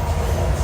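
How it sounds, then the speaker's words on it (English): A train rumbles past nearby, a dense, low, steady roar of rolling wagons filling the short stretch with no gaps. "Pause for the train."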